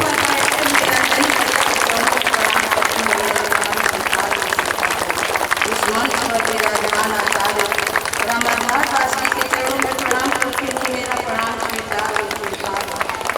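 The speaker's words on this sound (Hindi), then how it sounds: "ताली बजाते रहिए" An audience at a Shiv Charcha devotional gathering keeps up loud, continuous rapid clapping, close and sustained for over ten seconds, with someone talking over the applause.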